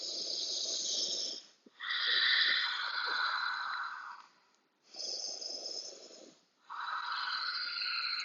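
Slow, deep breaths drawn in and pushed out during a yoga stretch, two long inhale-exhale cycles separated by short pauses, close and airy with a hissing, slightly snore-like texture and no talking.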